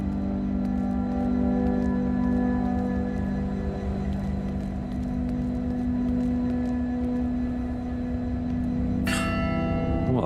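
A church bell ringing in the game Will: Follow the light after its clapper is fixed, a sustained resonant bell tone over a steady low hum, with a bright new strike near the end.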